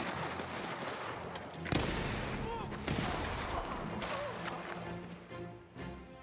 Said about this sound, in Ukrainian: Так, гранатку кидаю. Гранатку зараз кину. Ай, граната, тікай!